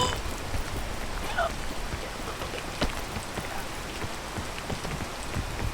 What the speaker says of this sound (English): Why does it have to start raining right now?